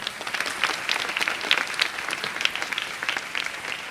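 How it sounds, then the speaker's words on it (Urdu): Audience applause in a Ramadan iftar television transmission greeting a painter starting his work, a dense, bright crowd clapping that holds steady and fairly loud for the whole stretch. "ان کے لیے بہت ساری تالیاں ہونی چاہیے"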